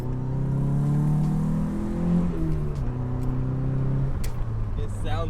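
A Nissan 240SX with an aftermarket catback exhaust revs at full throttle, a loud droning engine tone climbing and shifting pitch for several seconds, with people talking over it.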